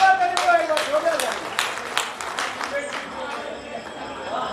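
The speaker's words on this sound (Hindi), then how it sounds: "आप थोड़े ताली वाली देते रहिए ताकि मुझे ये भ्रम बना रहे कि मेरी बात को आप समझ रहे हैं" Audience claps at a Hindi kavi sammelan at the Kunwariya fair, a burst of sharp, scattered hand claps that loosens into sparser clapping and fades, with a voice speaking over it.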